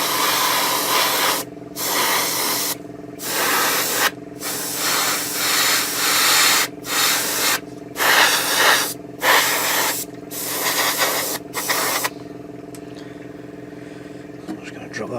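An airbrush sprays grey paint onto a 1/35 scale Takom Chieftain Mk10 tank model in close, loud hissing bursts separated by brief pauses, then falls quiet for the last few seconds.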